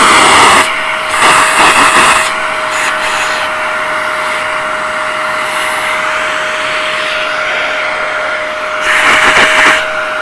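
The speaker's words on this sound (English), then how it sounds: "if you have another vacuum cleaner, now is the time to grab it" A second vacuum cleaner runs as a loud, continuous whine while dirt is sucked out of a Hoover WindTunnel upright, with brief louder surges at the start and end as the nozzle moves.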